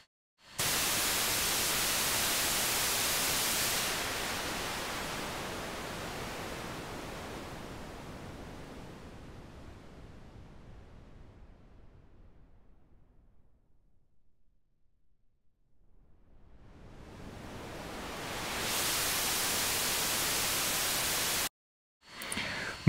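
Bright hiss of noise steadily darkens to near silence as a synthesizer VCF filter cutoff sweeps down, then opens back up to full brightness before cutting off.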